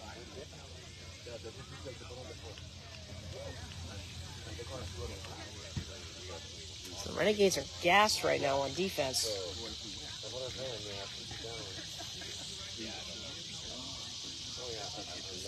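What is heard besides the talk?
cicadas buzzing loudly in the woods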